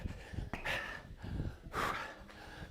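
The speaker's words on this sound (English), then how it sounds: "Heavy breathing now." Heavy breathing during a live workout session, two loud rasping breaths, an exhale and an inhale, close to the microphone over a low background rumble.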